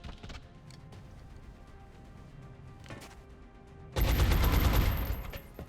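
A single gunshot in XCOM Enemy Within rings out sharp and loud near the four-second mark, after quieter game ambience with a couple of faint clicks.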